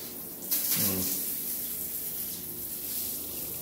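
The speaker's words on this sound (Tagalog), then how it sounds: "Lakas ng tubig." Strong water flow gushes from a shower tap in a small new rental loft bathroom, a steady hissing spray that starts abruptly and continues at moderate level, with a brief voice near the start.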